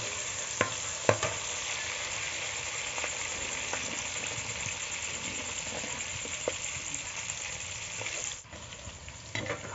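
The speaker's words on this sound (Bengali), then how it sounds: "নাড়াচাড়া করে ভালো করে ভেজে নেব।" Capsicum being stirred and fried in hot oil in a pan, a steady close sizzle running throughout with occasional clinks and scrapes of the spatula, no voices.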